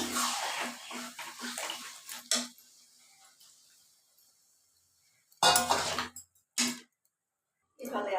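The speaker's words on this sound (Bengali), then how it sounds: "এতিয়া মই আমাৰ আঞ্জাটোত পানী দিম একদম গ্ৰেভি বনাম" Water is poured into a pot of mixed vegetable curry being cooked into a gravy, heard as short splashing bursts after a stretch of talk, with quiet pauses between pours.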